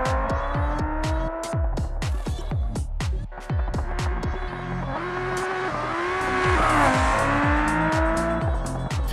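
A Scintilla car in BeamNG roaring hard with loud, continuous engine revving, rapid gear shifts and rising pitch sweeps, tire squeal mixed in, close and dominant throughout.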